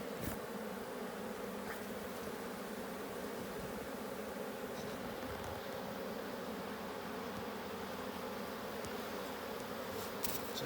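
A colony of honey bees hums inside a beehive called Ostia, a continuous dense buzz held at an even level throughout, close and unbroken, with a few faint clicks.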